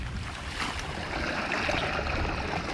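Water running along a small creek channel in the Philippine countryside, a steady broadband rush and splash that holds constant throughout at moderate level with no voices.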